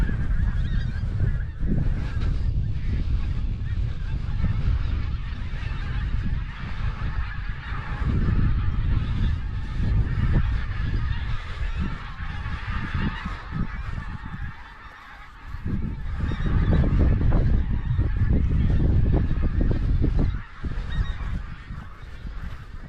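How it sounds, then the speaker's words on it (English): A large flock of several hundred geese honks continuously in an open field, a dense overlapping chorus of calls that stays loud throughout with no talking. "there looks to be a good few hundred geese in this field"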